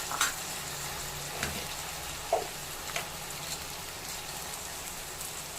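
Chopped tomatoes fry in a pan for mutton drumstick curry, a soft continuous sizzle and crackle with occasional stirring taps, quiet and close with no talk.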